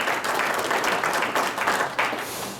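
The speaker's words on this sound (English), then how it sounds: "So we round of applause for him because it took a lot of work to put this together." An audience at a talk gives dense, close applause, a steady wash of clapping hands that starts to fade at the end.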